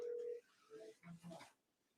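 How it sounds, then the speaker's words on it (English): Telephone keypad tones sound as a number is dialed, a long steady tone followed by several short beeps in uneven succession, moderately faint and clear with no talk over them. "let me make sure I make this phone call"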